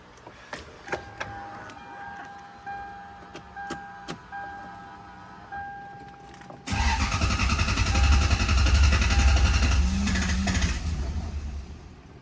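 A Lexus with about one million miles cranks without firing. A few faint clicks and whirs come first, then the starter grinds loudly and steadily for several seconds, close by, with no voices.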